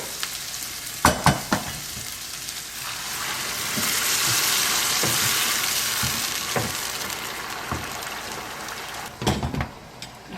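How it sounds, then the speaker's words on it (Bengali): Hot boiled water goes into a pan of frying cabbage with whole dried chillies, swelling the sizzle into a louder hiss before it settles, framed by a few clanks of a utensil. "এখন আমি জলটা ফোটানো জলটা দিয়ে দিচ্ছি।"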